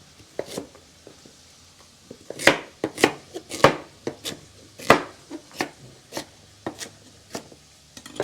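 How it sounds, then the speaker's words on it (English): A knife rough-chopping peeled, washed tomatoes for soup on a cutting board, with a series of sharp, close, irregular chops that become steadier and repeat every fraction of a second. "Just kind of take the tops off and just rough chop them."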